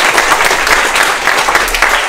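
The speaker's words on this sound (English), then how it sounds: "just a quick round of applause for Chef and Brokey tonight" Loud round of applause from a tech meetup audience, dense clapping from a crowd of people close by, steady throughout with slight swells.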